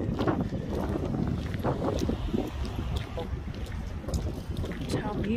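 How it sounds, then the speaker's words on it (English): Strong wind buffets a handheld microphone outdoors at a Coney Island eatery in Galesburg, Illinois, a loud rumbling low roar with gusty bursts throughout, and someone speaks briefly over it. "Oh my god, the wind."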